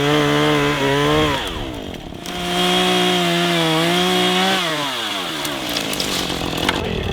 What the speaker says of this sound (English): on a ladder with a chainsaw